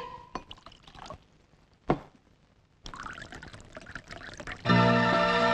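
Liquid poured by hand from a vessel into a glass or cup during a home meal scene, a steady rising fill sound near the end after scattered clinks and handling noises.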